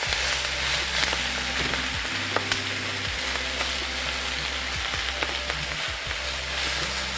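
Onions and Brussels sprouts pan-roast in a hot pan, giving off a steady, dense sizzle with a few soft stirring knocks and a low hum underneath, close and continuous.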